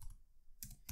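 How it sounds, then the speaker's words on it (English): Keys clack on a computer keyboard as a group name is typed into a Windows settings field, a few quick quiet taps in a short burst near the end. "So let's type the name of the groups here."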